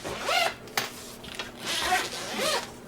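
Big zippers on the padded carry case of a Flexsolar A60 monocrystalline solar panel are pulled open in three quick rasping strokes, close by and moderately loud, with a brief tap between them.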